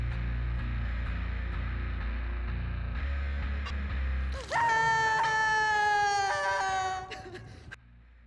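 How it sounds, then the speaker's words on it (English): Elodie screams in the video game Dead by Daylight, a loud, sustained, piercing cry lasting about three seconds that breaks off sharply after a low rumbling stretch. "Elodie's scream is super loud."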